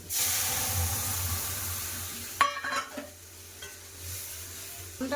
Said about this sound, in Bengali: এটা আমটা একটু ভাজা হচ্ছে আমি ডাল ঢেলে দিলাম